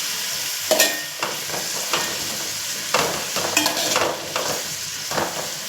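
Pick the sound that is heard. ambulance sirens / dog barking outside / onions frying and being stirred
onions frying and being stirred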